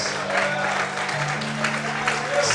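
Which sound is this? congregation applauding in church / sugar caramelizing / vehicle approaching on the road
congregation applauding in church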